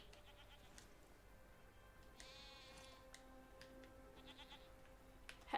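A goat bleats in the video game Season: A Letter to the Future, a faint, wavering cry heard twice against quiet ambient sound with soft ticking.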